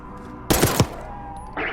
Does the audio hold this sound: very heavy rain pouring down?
no